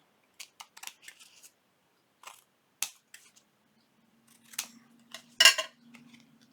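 Scissors trim paper for a junk journal pocket, a series of sharp, crisp snips in small clusters with quiet gaps, close and fairly faint, ending in one louder cut.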